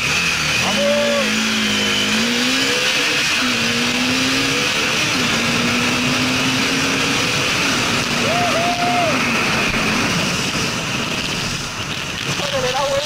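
Bajaj Dominar 400 motorcycle engine pulling away gently in first gear on a test ride, revs rising and falling through several climbs under steady wind and road noise, close to the rider.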